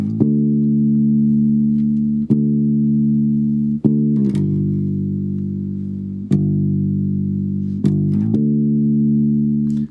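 A bass guitar plucks one chord, then plucks the same chord again before moving on: about half a dozen firm, sustained plucks, each ringing until the next, with no voices.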